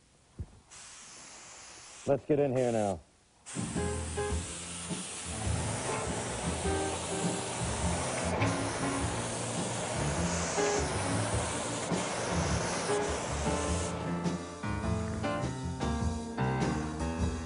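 A spray gun hisses steadily as finish is sprayed onto furniture, a continuous close rushing sound with brief pauses, accompanied by a few spoken words near the start.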